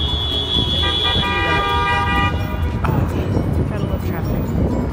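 Car horns honk amid steady city traffic noise, with sustained tones sounding over the first couple of seconds before the engine and road rumble carries on alone.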